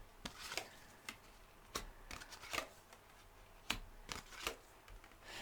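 Tarot cards, including a Rider-Waite deck, being shuffled and drawn, giving a string of sharp riffling bursts and light snaps spread unevenly across the quiet stretch, close and fairly faint, with no voices.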